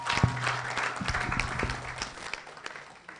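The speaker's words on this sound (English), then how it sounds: "Another round of applause for Prof." An audience at an economic symposium claps for a professor, a short burst of applause that swells quickly and then tapers off, with faint voices mixed in.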